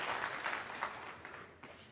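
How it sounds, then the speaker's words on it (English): Snooker crowd at a 2017 final between Ronnie O'Sullivan and Judd Trump applauding, a soft, fairly distant wash of clapping that tapers off over two seconds. "And listen to the applause he's getting."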